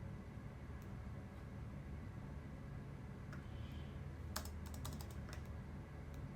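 Quick, faint clicks of typing on a computer keyboard, a short burst of keystrokes near the middle over a steady low room hum.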